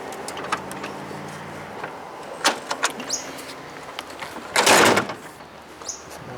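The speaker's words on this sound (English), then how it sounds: "So we'll pop the seat down." A seat on a machine with an air compressor is lowered and shut, giving a series of clicks and clunks followed by a heavier thud and rattle, with a bird chirping faintly in the background.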